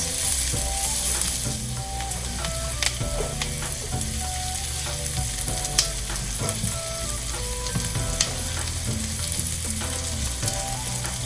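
Chopped onions fry and are stirred in a hot pan for sago pongal. A steady, loud sizzle runs throughout, with light scraping and stirring clatter and no talking.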